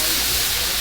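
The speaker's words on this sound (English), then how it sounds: "add just a little bit of water over here. We want to steam them up a little bit." Water poured onto a hot Blackstone griddle to steam potatoes gives off a steady, loud, broadband hiss that fills the whole moment without a break.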